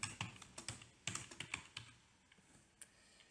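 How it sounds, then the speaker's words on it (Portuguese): Quiet keystrokes on a computer keyboard come in a quick irregular burst of clicks, then pause and end with a single final tap, with no talking. "Deixa eu digitar aqui."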